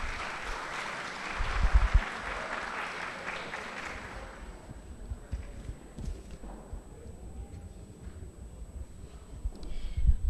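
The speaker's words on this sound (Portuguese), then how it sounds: "Uma salva de palmas, né," An audience at a journalism and literature gathering gives a burst of applause for the journalists. It swells loud in the first seconds, then thins after about four seconds into scattered claps, shuffling and room noise.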